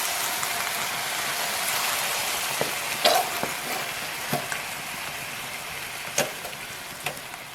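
Salmon fries in a pan as coconut milk goes in, giving a steady dense sizzle with occasional soft pops and stirring clicks, close and even throughout.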